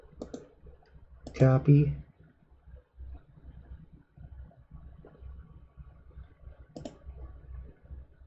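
A computer mouse clicks a few times, sharp and close, during game setup at a desk, separated by quiet gaps while someone briefly speaks between the clicks.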